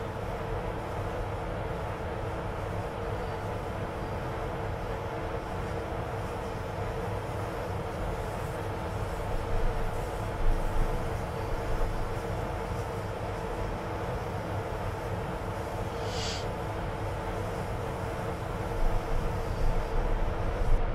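A Class 92 electric locomotive hauls a very heavy train on the Chatham Mainline in Train Simulator 2016, giving a steady, loud rumbling drone with a slight swell partway through.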